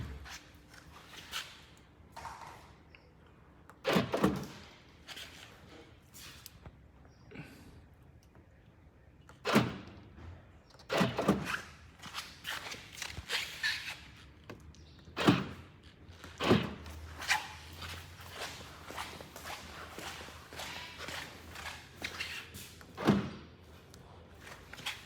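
A car's door lock actuators, working through a keyless entry system, clunk and click as each door is locked and unlocked. Sharp thumps come in scattered bursts with quieter gaps between them, close to the listener.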